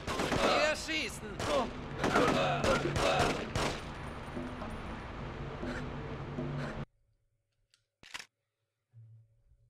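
Rapid gunfire in the video game The Getaway, dense overlapping bursts of shots for several seconds, loud and close, then a sudden cutoff into near silence with one more faint report; voices are heard during the firing.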